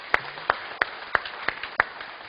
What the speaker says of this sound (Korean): 우리 자녀들을 위해서 우리 박수 한번